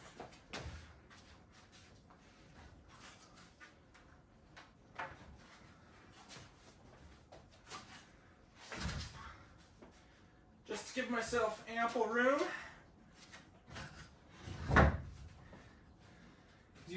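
A wooden stud is worked loose from a wall frame during framing, giving a few dull knocks and scraping wooden thuds spread across the span, with someone talking between and over them.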